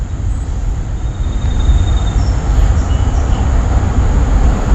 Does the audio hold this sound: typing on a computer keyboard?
no